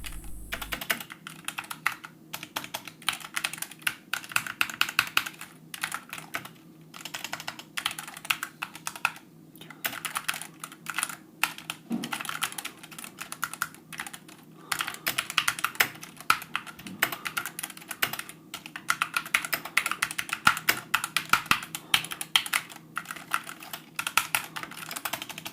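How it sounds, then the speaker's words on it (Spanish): Continuous typing on an SK61S 60% mechanical keyboard, with steady, rapid key clicks and clacks close up and alone, with no talking, running the whole time. "os dejo con un test para que podáis escuchar cómo es este teclado"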